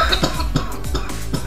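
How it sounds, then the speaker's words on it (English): A few short, harsh coughs from a person sitting close by, spaced out in an uneven burst over roughly a second and a half, with no talking. "Bit of a cough coming there."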